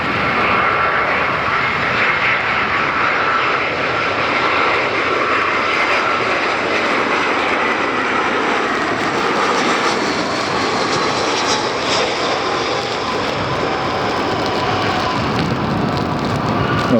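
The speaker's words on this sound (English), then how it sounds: "Next up is JetBlue number 38 inbound from San Jose, just like the other one." A JetBlue jet airliner flying in to land at Fort Lauderdale airport gives a loud, continuous engine roar and rushing whine that holds steady throughout as it passes close by.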